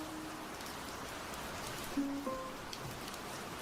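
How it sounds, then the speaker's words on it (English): Steady, faint rain patters in World of Warcraft player housing, a soft continuous wash with a few small tonal blips. "when you added this rainy sound"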